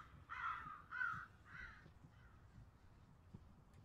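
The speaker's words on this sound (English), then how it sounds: "There's a crow, we call a crow down." A crow in the Everest VR video game gives three hoarse caws in a quick row, fairly faint and distant, followed by quiet ambience.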